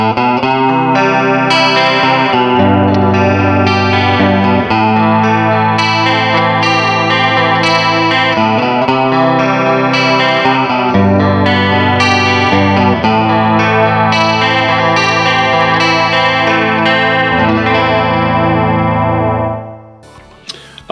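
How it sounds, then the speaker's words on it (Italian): Jet Telecaster electric guitar on its bridge pickup with a clean tone, ringing bright chords and arpeggios loud and close for about twenty seconds, then fading out at the end, alone with no talking. "è veramente cristallino il suono del pickup al ponte"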